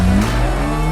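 A 1963 Porsche 356B engine pulling away under load, a loud, close mid-pitched drone that holds steady through a brief moment of acceleration.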